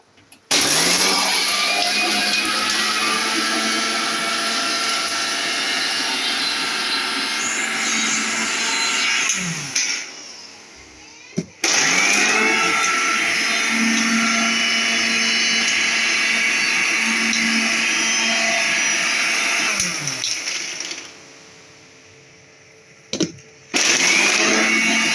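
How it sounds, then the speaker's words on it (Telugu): A kitchen mixer grinder blending cucumber gravy whirs loudly and steadily in two long bursts, each around ten seconds, with a brief pause between them and no talk over the motor. "ఇప్పుడైతే మిక్సీ పెట్టేసుకుందాం"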